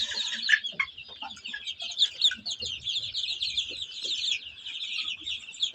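Chickens and roosters cluck and call steadily from close by, a dense overlapping chorus of hens and cockerels with sharper calls standing out now and then.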